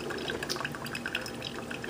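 A Cook's Essentials one-cup coffee maker brews into a ceramic cup, giving a steady close trickle and splash of liquid with bright dripping spatters throughout.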